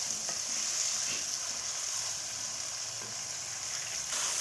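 Tomatoes and onions sizzle steadily in hot oil for kachnar qeema, a continuous close frying hiss with faint stirring scrapes throughout.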